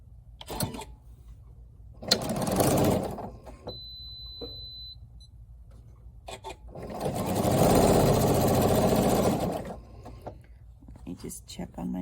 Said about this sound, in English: now we are going to sew these together and we will have our completed block